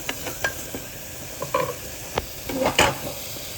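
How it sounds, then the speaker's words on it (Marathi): Onion fries in butter in a pan while being stirred, a soft sizzle broken by intermittent spoon scrapes and clacks, close and clear with no talking. "हा नरमच करून घ्यायचा आपल्याला कांदा, जेणेकरून आपल्याला जास्त भाजून नाही घ्यायचं आहे बटरमध्ये।"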